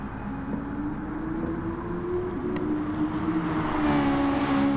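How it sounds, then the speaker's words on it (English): Toyota race cars slipstreaming down the long straight at Circuit de la Sarthe in GT Sport, a steady droning engine note held at high speed, with a second engine rising slightly toward the end. "See the 2 Toyotas once again slipstreaming down the straight."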